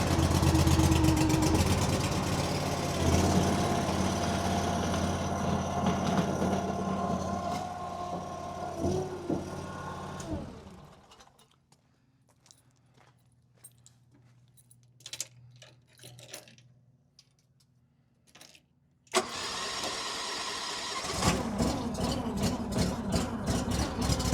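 Huayee LHY480 mini skid steer engine cranks and runs roughly, then cuts out into quiet clicks and clatter before catching again and settling into a steady, loud idle near the microphone.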